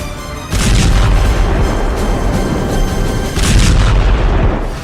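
Heavy booming blasts from missile fire on a battlefield where anti-tank missiles are launched against Israeli tanks; loud, rumbling explosions swell in two surges with no voices.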